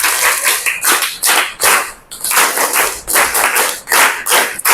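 An audience claps their hands together in loud, rhythmic bursts, many hands striking in unison with short pauses between rounds, close and clear.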